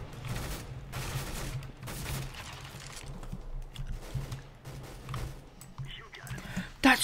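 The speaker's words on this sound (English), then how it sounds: "Ah, he's shooting at me." Rapid gunfire bursts in Counter-Strike: Global Offensive, with AK-47 rifles in play, rattling in repeated volleys under a player's speech, fairly faint throughout.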